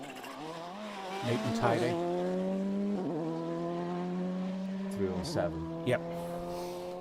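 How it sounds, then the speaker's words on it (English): A rally car on a tarmac stage of the O'Connell Group Cork 20 Rally 2023, its engine revving and shifting up through gears as it approaches from a distance, heard under a commentator's talk. "in the distance I can hear a car."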